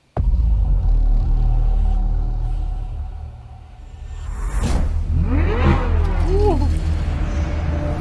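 A Corvette Z06 engine builds from a low, steady rumble into a sharp, rising rev around the middle, followed by a few quick throttle blips that climb and fall.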